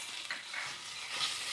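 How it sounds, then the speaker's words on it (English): Thai curry paste, about four teaspoons, sizzles in a hot pan as it is spread around for a spicy noodle soup, a bright, close hissing fry with soft scraping stirs rising and falling over a short moment. "just cook the curry paste, this, and just spread it like this"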